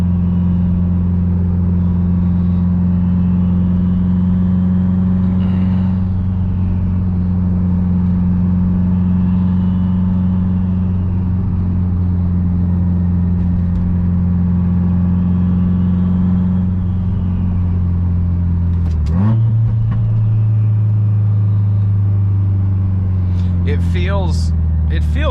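A car with a manual gearbox cruises on a highway during a test of whether it pops out of sixth gear, its engine holding a steady loud drone before the pitch shifts near the end.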